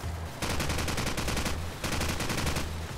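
Rapid AK rifle gunfire in the video game Call of Duty 4, two loud close bursts of fast repeated shots separated by a short pause.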